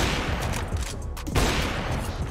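Desert Eagle pistol shots in CS:GO, heard as a couple of loud, sharp reports over a dense, noisy game background, with one distinct blast near the middle.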